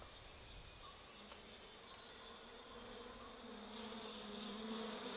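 A dense, steady buzzing of many giant Asiatic honey bees swarms together, sustained and slightly rising in loudness, with no voices.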